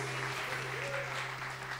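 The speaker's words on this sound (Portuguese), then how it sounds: "Vamos aplaudir ao Senhor em nome de Jesus." A congregation at a church service claps steadily, a brief burst of dense applause with a low musical tone sustained underneath.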